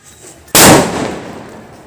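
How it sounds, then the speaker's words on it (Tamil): A Lakshmi vedi firecracker goes off in a single sharp, loud bang during Diwali celebrations, with its echo trailing off over a second of faint background. "நம்ம ஃபஸ்ட்டு கிராக்கர் வெடிக்க போகிறோம்."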